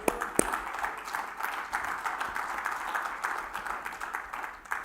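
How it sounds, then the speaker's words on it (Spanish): Church congregation clapping hands together in steady continuous applause, a dense even patter of many hands throughout with no voices over it. "Denle palmas al Señor."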